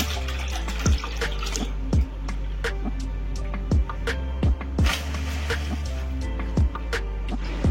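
Milk boils in a pot on a stove for custard, with regular bubbling plops rising over a steady low rumble.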